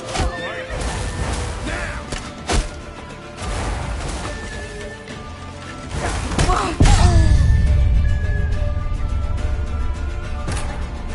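Horses whinny and neigh loudly in The Witcher 3, with several sharp calls, hoof clatter and thuds amid a tense chase, and people shouting over the action.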